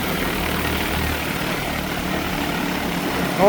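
An agricultural DJI T20P spraying drone comes in to land after soil-insecticide spraying, its rotors giving a loud, steady droning hum that swells near the end.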